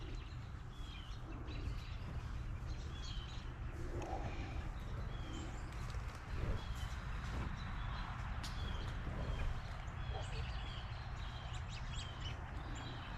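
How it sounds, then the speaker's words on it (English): Faint, scattered bird chirps outdoors in a quiet natural area near Hendersonville, small calls popping up intermittently over a low background hum with no one talking. "Birds are talking to us."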